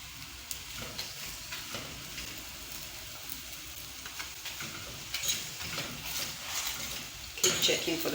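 Chapati cooking on a hot pan, a faint soft sizzle with light scraping and handling noises, while a person talks.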